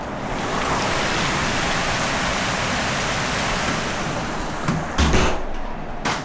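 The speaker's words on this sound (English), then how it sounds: "And it is pouring rain." Pouring rain at 2 a.m. on a mud crab fishing trip by croc-infested water, a steady dense roar close by, with a brief rustling knock near the end.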